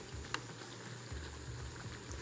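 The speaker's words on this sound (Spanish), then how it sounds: "Acomodar para que el aceite bañe muy bien nuestra tortillita que estamos haciendo en fritura." Tortilla strips fry in a pan of hot oil for tortilla soup, giving a steady, close bubbling sizzle that continues without a break and has no talking over it.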